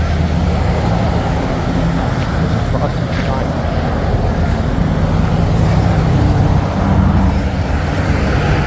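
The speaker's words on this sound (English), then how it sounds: "Wow, there's a lot of traffic over here." Road traffic on a street in Dunedin, Florida roars continuously with heavy low rumble and wind buffeting the microphone, while someone speaks briefly over it.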